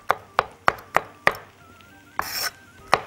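Garlic chopped coarsely with a knife on a board in a home kitchen, about seven sharp, evenly spaced chops close by, with a brief rustling scrape partway through.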